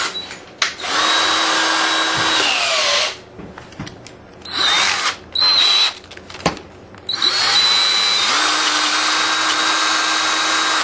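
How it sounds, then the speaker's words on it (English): A power drill bores the top of a slit for a reservoir bolt on a Can-Am snorkel kit install: loud, close whining runs start and stop in several bursts with brief pauses between. "we're going to take a drill bit and we're just going to drill just the very top of this slit"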